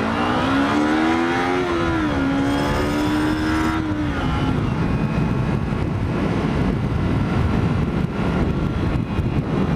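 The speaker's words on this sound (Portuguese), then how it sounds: "Tá morrendo a moto, cara." A motorcycle engine revs and falters on the road, its pitch swelling and dipping before settling into a rough, sputtering drone, loud and close throughout.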